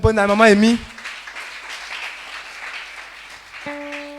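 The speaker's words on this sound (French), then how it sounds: "Acclame puissamment le Seigneur." A church congregation applauding and cheering during a worship service, a sustained wash of clapping and voices following a short spoken or sung phrase at the start, with a sustained electronic tone entering near the end.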